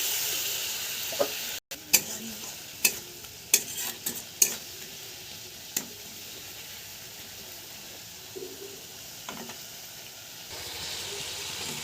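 Spice paste of turmeric and chili powder mixed with water, frying with tomato in a pan while being stirred, with a steady soft sizzle and several sharp scrapes and clinks of the spoon against the pan.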